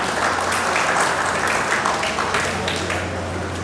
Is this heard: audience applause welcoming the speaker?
yes